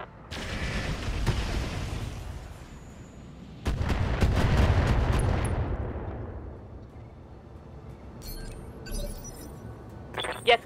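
Weapons firing in a video game: a heavy booming volley, a pause, then a second long rumbling barrage that fades out, followed by faint clinking mechanical sounds and a sharp final crack.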